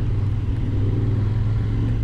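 A Royal Enfield Continental GT 650 motorcycle riding uphill in second gear: a steady, low engine drone with a constant rumble, loud and close throughout.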